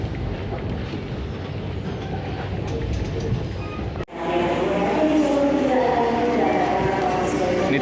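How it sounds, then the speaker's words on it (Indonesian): Inside the Tawang Jaya Premium passenger train, a steady low rumble of running on the rails fills the carriage, broken by a brief cut before continuing, with talking over it. "Ini teman-teman kereta api"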